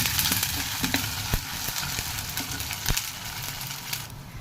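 Sliced onions with ginger garlic paste fry in a pan, a steady close sizzle carrying scattered crackles and a few light scrapes of a spoon.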